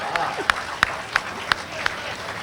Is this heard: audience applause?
yes